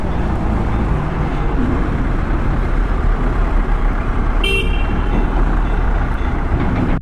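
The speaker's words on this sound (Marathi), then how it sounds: "ट्रॅफिक खूप आहे." Heavy road traffic on the way to the Nepal border, a steady loud roar of engines with a short horn toot midway and no talk.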